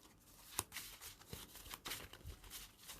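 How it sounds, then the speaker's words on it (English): A deck of trading cards is riffled and shuffled up close, quiet, with soft repeated flutters and taps in an irregular rhythm. "Pretty much shuffle pretty well here."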